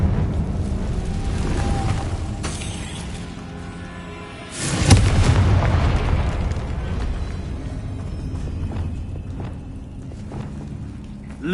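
A Confringo blasting spell goes off in a Harry Potter video game: a sudden deep boom with a rumbling burst midway, then a fading roar over a low, steady game ambience.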